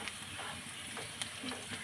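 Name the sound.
garlic sautéing in a pan until golden brown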